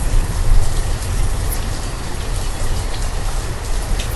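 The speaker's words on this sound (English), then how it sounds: "Boy, is it raining a lot in this early summer." Steady rain pours down in the city-building game Banished, a dense, even hiss holding at constant loudness throughout with no talk over it.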